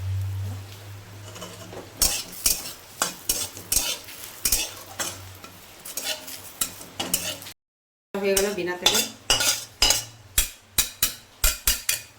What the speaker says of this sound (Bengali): কেন বিনা তেলে ভাজা হচ্ছে তো